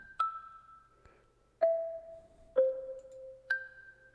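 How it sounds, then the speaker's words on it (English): Sparse bell-like synth notes play a counter melody in a beat, four plucked tones spaced about a second apart, each ringing briefly before decaying, quiet and clean. "so then I just added this little counter melody thing"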